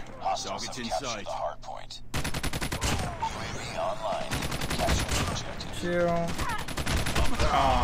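Rapid automatic LK24 rifle fire in the Call of Duty Mobile video game, bursts of close loud shots running through most of the clip alongside other gunfire, with a voice speaking briefly near the start.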